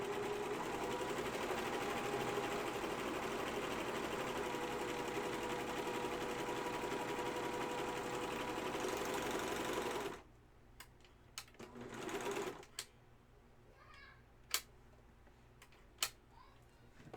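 A serger running continuously while edging the fabric of a project bag pocket, then stopping abruptly, followed by scattered clicks and light handling noises.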